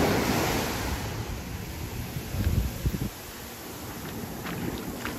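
Ocean surf washes steadily onto Playa de Oro beach in Puerto Vallarta, a broad continuous roar with some wind buffeting the microphone and no voices.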